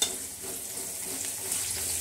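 Lentils and dried red chillies frying in a pan, a steady soft crackle and sizzle with faint stirring scrapes, close and even throughout with no talking.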